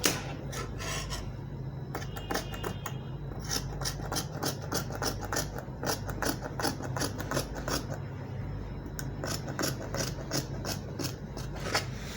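Scissors cutting through trouser fabric up close, a quiet run of rapid crisp snips and rasping slices with short pauses, under a low steady background hum.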